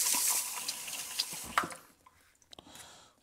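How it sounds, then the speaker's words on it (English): Tap water runs strongly over juicer parts in a sink, then cuts off, leaving scattered clinks, drips and rattles of the parts being handled. "Let me rinse all this out."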